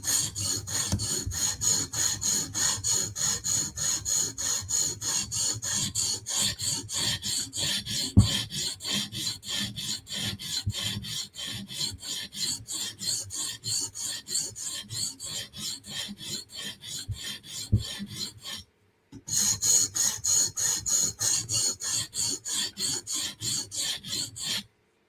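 Knife blades, a Ruike flipper and a CRKT M16, drawn across a stone on a TSProf Kadet sharpening system: a close, steady series of rhythmic raspy strokes with one short pause near the end.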